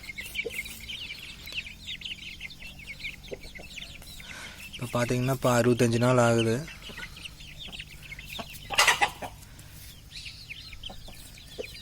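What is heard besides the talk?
chickens clucking and pecking feed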